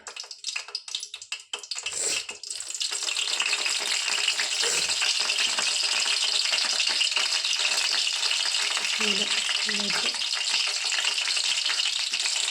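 Salted brinjal pieces tumble into oil over a low flame with a brief rattling clatter, then settle into a loud, continuous sizzle.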